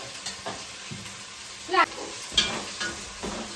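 Onion and chili fry in hot oil for a home-cooked biryani. A steady close sizzle carries a few sharper stirring scrapes and clinks, and there is no talking over it.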